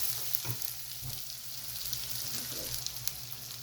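Garlic ginger paste frying on high heat for a spinach and milk dish, a close continuous sizzle with a few soft stirring knocks, no voices present.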